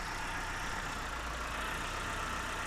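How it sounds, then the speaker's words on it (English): Proton 1.5 SE car engine idling steadily outdoors, a constant low rumble with broad hiss and no revving, with no voices over it. "So as you can see, the engine is running."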